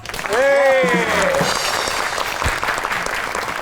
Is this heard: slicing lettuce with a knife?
no